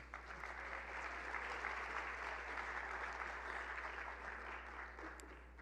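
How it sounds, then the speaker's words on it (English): An audience at a university spring semester opening session applauds for a person called to the stage, a steady, even wash of clapping from a large crowd, heard at a distance over a low constant hum. "let's have a round of applause for Christy Barnett"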